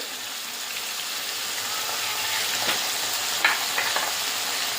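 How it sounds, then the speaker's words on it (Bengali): Spice masala of ginger, chilli, Kashmiri chilli powder, turmeric and salt sizzles steadily in a pan for home-style biryani, with a few soft scraping stirs near the end; no voices. "এবার মশলাটাকে ভালো করে কষিয়ে নেব"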